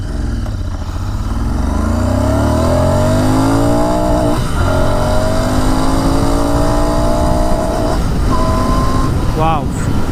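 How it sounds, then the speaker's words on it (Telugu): A Royal Enfield Continental GT 650 motorcycle accelerates hard through first and second gear, engine pitch climbing in long sweeping rises with a shift between, loud and close, with a rider's voice over it. "ఫస్ట్ గేర్, సెకండ్ గేర్, రెండు గేర్స్లో కూడా ఎంతవరకు వెళ్తుంది అనేది ఒకసారి చూద్దాము"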